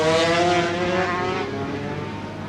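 250cc Grand Prix two-stroke racing motorcycles howl at high revs around Phillip Island circuit in a 1992 support race, one bike loud and close with a rising, slightly fading engine note and no talk.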